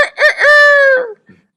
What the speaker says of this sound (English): can you hear the Nanakuli chickens?